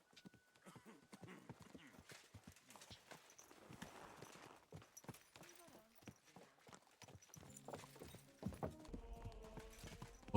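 Horse hooves in Kingdom Come: Deliverance II clip-clop in a steady walking rhythm, with quiet talking in the background and a brief whinny.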